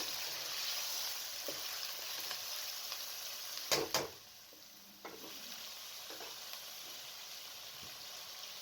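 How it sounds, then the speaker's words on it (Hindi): Chicken pieces with garlic and ginger fry quietly in a pan, a faint steady sizzle broken by a couple of sharp clattering stirs near the middle, then a softer hiss; no speech. "लहसुन के साथ भी 3 से 4 मिनट भून लें।"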